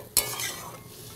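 Chicken sautés in a pan as a spoon scrapes through it, one sharp clack followed by a soft continuous sizzle, close and brief.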